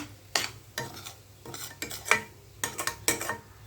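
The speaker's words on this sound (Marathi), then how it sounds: "चांगलं हलवून घ्या." A spoon scrapes and clacks against a pan while upma is stirred, several quick irregular strokes over a soft sizzle.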